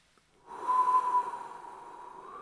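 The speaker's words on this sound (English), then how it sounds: "And breathe back in." One long, slow inhale through the nose during a guided energy healing session, starting after a brief quiet moment, close and soft, gradually tapering off.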